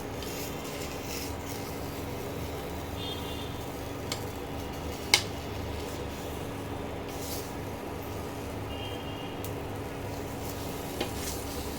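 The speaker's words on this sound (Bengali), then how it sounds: "এইভাবে আমি সবগুলো পাটিসাপটা ভেজে নিয়ে তোমাদের দেখাচ্ছি" Mango-filled patisapta crepes rolled with khoa kheer fry in a pan, giving a steady low sizzle and rasp with a few faint clicks and one sharper tick near the middle, with no voices.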